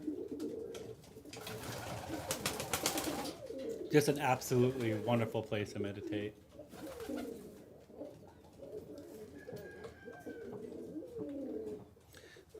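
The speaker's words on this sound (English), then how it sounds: "You can hear the beautiful cooing." Pigeons coo in an aviary during a Sunday service for animals, soft repeated cooing calls heard close by beneath a person speaking calmly, with some rustling and wing movement in the middle.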